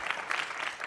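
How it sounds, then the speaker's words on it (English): Applause from an audience at a youth development forum, a steady dense wash of many hands clapping together, continuous and fairly loud throughout the brief moment. "it deserves another round of applause."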